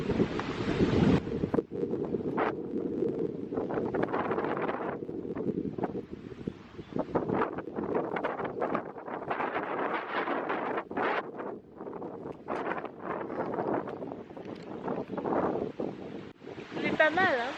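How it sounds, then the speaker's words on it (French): Wind blowing at Lake Tarawera, New Zealand, a loud continuous rumbling gust buffeting the microphone throughout, with people talking intermittently over it. "Il y a juste un petit vent frais."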